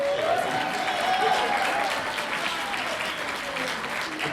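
An audience claps and cheers together at a live fur convention concert, a full, sustained round of applause with a faint voice rising briefly near the start.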